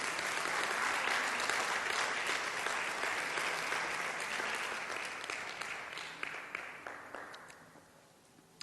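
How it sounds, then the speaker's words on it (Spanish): A congregation applauds the Lord during a church service, loud sustained clapping from many people that swells early, then gradually thins and fades out over about eight seconds. "dale un aplauso al Señor"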